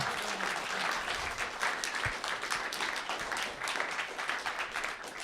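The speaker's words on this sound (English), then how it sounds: "just a round of applause for Bulletin" Audience at the RPG Limit Break 2019 finale clapping, a loud, steady round of applause that holds throughout.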